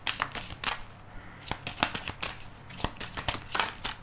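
Tarot cards being shuffled by hand at close range, a busy run of quick riffling and flicking bursts with brief pauses between them, with no voice over it.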